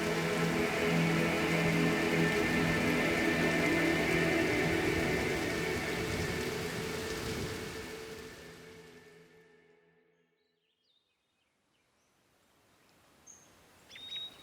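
A heavy rainstorm downpour in a Papua New Guinea village: a dense, steady hiss of rain that gradually fades away to near silence, leaving faint birdcalls and scattered drips.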